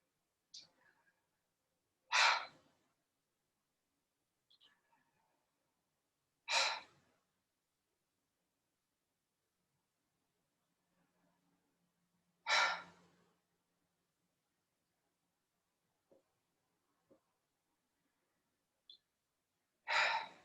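Slow, deliberate pranayama breathing during a Kriya Yoga class: a handful of strong, airy exhalations spaced several seconds apart, close to the microphone, with faint soft breaths and small clicks in the quiet between them.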